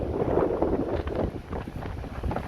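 Heavy wind buffets the microphone in a continuous low roar on a New Orleans street near Canal and Bourbon Streets, gusting unevenly with no other clear sounds.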